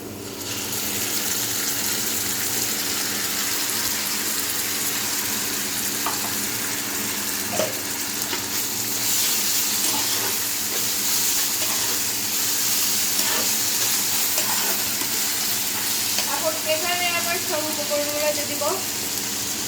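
Ground ginger, garlic and cumin paste frying in a pan while beef tripe is cooked, a constant loud sizzle with scattered stirring clatter and a voice speaking briefly near the end.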